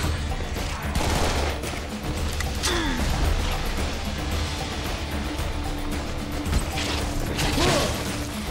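Gunfire in the first-person shooter Serious Sam 3: BFE, with continuous loud mechanical weapon fire and explosions over a dense, unbroken game soundscape on a street full of enemies, no talking.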